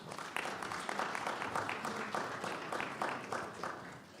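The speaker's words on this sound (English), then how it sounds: "Let's give our guests a round of applause." Audience applause for guests at the Stanford India Conference on US-India partnership, a steady wash of many hands clapping at moderate distance, fairly quiet and even throughout without voices.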